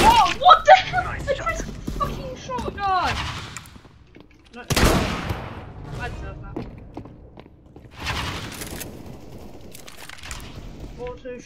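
Shotgun fire in CS:GO, a few sharp, heavy blasts spaced seconds apart, loud and close, with voice chat talking in between and game noise underneath.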